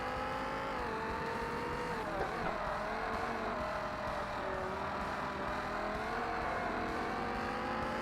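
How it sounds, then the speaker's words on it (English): A Chevrolet Corvette races in Forza Motorsport, its engine droning steadily at high revs with shifting pitch as it accelerates and eases off, alongside other cars' engines, with no voices. "That Corvette sounds mean."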